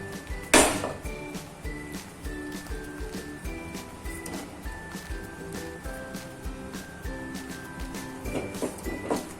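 Metal utensil scraping and clinking against a pan as melted jaggery is stirred in, in an irregular rhythm, with one sharper clatter near the start; no talking.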